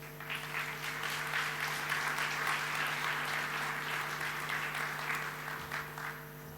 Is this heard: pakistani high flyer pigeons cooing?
no